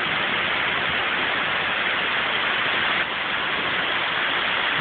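Heavy storm rain and wind pour down in a dense, steady roar that stays loud and unbroken throughout, with trees nearby bending in the gusts and no voices heard.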